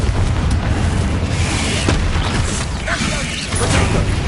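A loud, rumbling blast from a fire-casting Confringo spell in a wizard video game, dense and sustained with crackling bursts, and a voice speaking over it.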